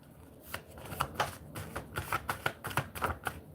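Tarot cards shuffled in quick, irregular bursts of riffling and slapping, close and moderately loud, with no voices.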